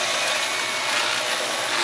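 A vacuum cleaner runs steadily, a constant loud whirring drone with a hissy edge, close by and unbroken throughout.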